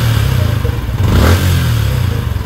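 Yamaha Sniper 155 motorcycle engine idling and revving after a tune-up, a steady low rumble that swells into a brief rev around the middle before settling back, close and loud with slight mechanical clatter.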